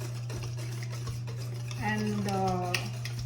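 Brownie batter with four eggs is stirred in a bowl, making soft scraping and clinking strokes against the bowl under a constant low electrical hum, with a voice briefly heard partway through.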